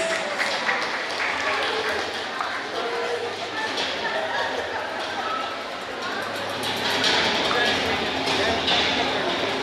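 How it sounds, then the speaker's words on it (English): A crowd applauds and cheers at a raffle drawing in Palau, with sustained clapping across the whole stretch that swells louder near the end, while voices talk underneath. "Big round of applause, everybody."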